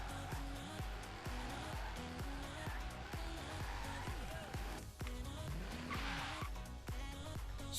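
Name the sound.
car drifting with tire squeal in video game Forza Horizon 3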